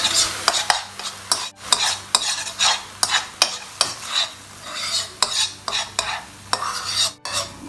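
A spoon scrapes and stirs through thick rice porridge (jok, made from Knorr instant jok) in a pan off the heat, a steady series of rhythmic scraping strokes, close and fairly loud, with no voices.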